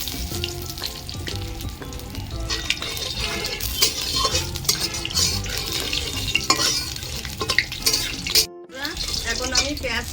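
Whole garam masala, fresh and dried chillies, bay leaf and cumin seeds sizzle and crackle in hot oil in a pan, a dense close frying hiss with occasional stirring clinks, under a brief pause in the middle.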